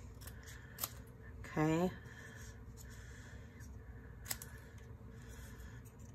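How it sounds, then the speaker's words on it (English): Paper snips trim cardstock for a handmade shaker card in a few sharp, crisp snips. A short spoken word sits in the middle, over a faint background hum. "I'm just gonna take my scissors, my paper snips, and I'm just gonna kind of trim it down a little bit"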